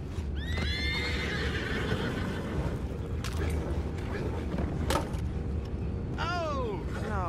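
Several horses whinny loudly in Red Dead Redemption, one early and another near the end, over a steady rumble with faint hoof clops and low voices in the background.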